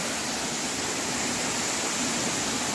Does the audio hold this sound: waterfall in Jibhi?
yes